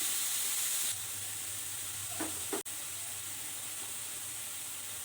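Chana dal and spinach with salt and chili powder frying in a pan, a steady low sizzle throughout with a couple of brief stirring scrapes and a sharp click near the end, no talking.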